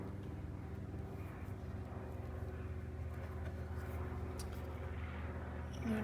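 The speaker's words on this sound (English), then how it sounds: "I apologize if you hear a helicopter in the background." A low, steady helicopter drone with a throbbing rumble hangs in the background throughout, distant and unchanging.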